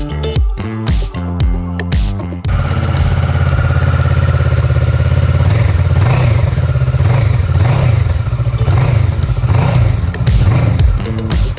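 A 2016 Kawasaki ER6-N ABS naked motorcycle engine runs steadily nearby, with a loud, even idle and rhythmic pulsing swells of revving after a brief clattering start.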